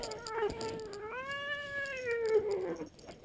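A house cat gives one long, drawn-out meow that rises and falls, fairly close and clear over a quiet room background.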